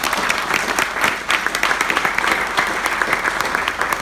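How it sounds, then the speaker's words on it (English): Audience applauding inductees at an evening induction ceremony, a steady dense round of clapping that stays loud and close throughout without any voices. "one more round of applause for all of our"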